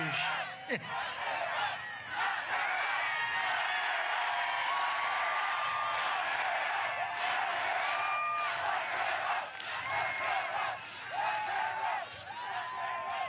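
A lively crowd at a Marco Rubio political rally in Florida cheers and shouts continuously, with whoops and scattered voices rising above a steady roar of noise.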